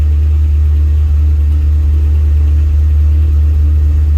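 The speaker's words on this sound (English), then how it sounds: "It's idling a little high. Doesn't like what it's seeing right now." A Ford P71 car engine idles a little high close by, with a strong, steady low hum that stays constant throughout.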